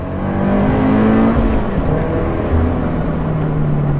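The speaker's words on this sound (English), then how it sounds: "It's got an aftermarket exhaust, but to be honest, as a 4-cylinder, it doesn't sound all that great." Steady, loud four-cylinder supercharged Scion FR-S engine drone with a raspy aftermarket exhaust note, close and sustained, pitch shifting slightly as it runs.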